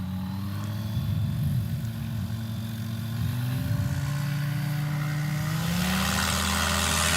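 Small-bore engine of a STOL aircraft taking off during a competition, a steady loud propeller drone that climbs in pitch as power builds, with no voices over it.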